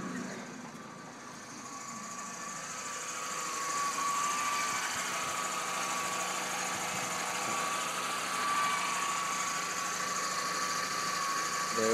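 A 2001 Volkswagen Jetta idles with a steady, continuous engine hum and faint higher whine, holding an even level for the whole stretch with no voices.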